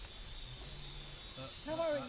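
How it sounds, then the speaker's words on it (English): A cicada drones as a steady, continuous high-pitched buzz throughout, with a voice speaking briefly underneath near the end. "How are you with that cicada? It's some serious noise."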